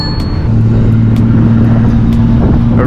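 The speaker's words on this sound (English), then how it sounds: "that 2JZ sounds good" A car with a Toyota 2JZ engine rumbles loudly and steadily close by with a deep droning tone, no speech over it.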